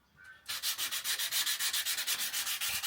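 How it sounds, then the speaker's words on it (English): Wet and dry sandpaper rubbing out paint runs on a Harley Davidson Sportster 1200 motorcycle being restored. Rapid, rhythmic back-and-forth scrubbing strokes, about six per second, start abruptly and continue steadily, close and alone. "So we'll just rub them out."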